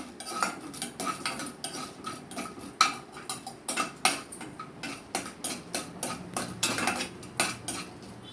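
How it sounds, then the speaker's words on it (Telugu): Urad dal (split black gram) is tipped into a cooking pan and stirred, giving a steady run of rhythmic metallic scrapes and clinks from a spoon against the pan, close by. "మినప్పప్పు కొంచెం వేయాలి."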